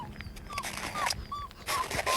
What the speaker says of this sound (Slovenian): O, Miška, a ti si cvilila?